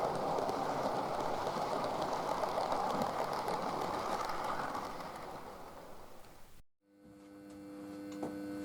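A model train runs on the Little Bytham layout, a steady broadband rumble that fades lower before a brief cutoff, followed by a quieter hum with faint tonal lines.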